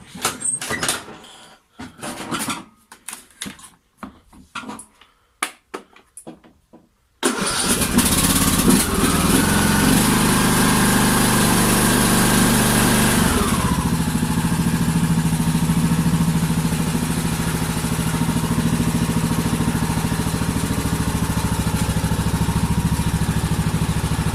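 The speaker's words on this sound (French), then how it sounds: "Donc là je vais sortir le tracteur" A small lawn tractor engine cranks and catches after a few quiet knocks, then roars and settles into a steady, loud running drone close by.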